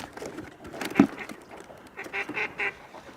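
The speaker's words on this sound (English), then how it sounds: "There's always an annoying duck somewhere." A duck quacks repeatedly outdoors beside a winter fishing spot, a series of nasal calls at moderate distance with one louder squawk early on, over faint background noise.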